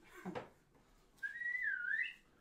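A person whistles to call someone: a short sharp note, then a longer wavering whistle lasting about a second, fairly close against a faint room background.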